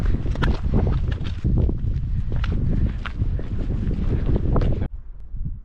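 Strong wind gusts buffeting the microphone outdoors on exposed ground near a bothy during a wet, windy winter storm, with footsteps and rustling mixed in before the roar drops away near the end.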